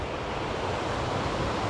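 A wide mountain stream rushes in a continuous broadband roar, close and steady, with no talking.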